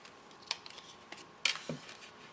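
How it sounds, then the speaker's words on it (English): Scissors snip through a paper craft tag with a few quick, faint cuts and small rustles up close in a quiet room. "I'm going to cut it down."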